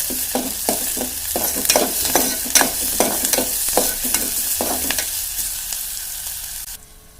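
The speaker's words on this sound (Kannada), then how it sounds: "ಪುದೀನ ಹಾಕಾಕತ್ತೇನೆ. ಕರಿಬೇವು ಹಾಕ್ತೀನಿ. ಇದನ್ನೆಲ್ಲ ಒಂದು ಸ್ವಲ್ಪ ಹುರ್ಕೋಬೇಕು." Mint and curry leaves fry in a pan for an aloo matar gravy, stirred with quick, rhythmic scrapes over a loud, close sizzle that softens near the end; no one speaks.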